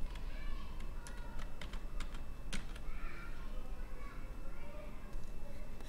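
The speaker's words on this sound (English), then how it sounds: "I'm going to click and type the word seed" Computer keyboard typing: quick, clear key clicks in a short burst, then a few scattered taps over a faint background hum.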